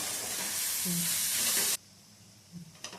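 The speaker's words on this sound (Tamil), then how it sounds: "இதில் கேப்சிகம், பீன்ஸ், கேரட், கொடமிளகா எல்லாம் போட்டு நல்லா ஃப்ரை பண்ணுறோம்" Capsicum, beans and carrot fry in a pan for egg rice, a loud broad sizzle that cuts off abruptly partway, followed by quieter room sound and a couple of faint clinks.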